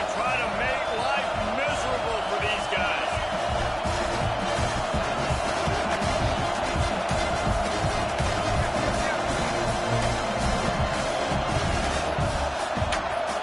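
Stadium crowd in the College Football 26 video game, Missouri at Arkansas, roars steadily and loudly throughout, a dense continuous wall of cheering with commentary voices mixed in.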